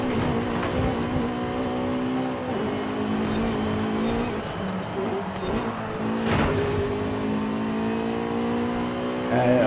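An A-class race car in Forza Horizon 5 revs and shifts through a lap, its engine note rising and falling in repeated sweeps, with brief tire squeal, loud and continuous.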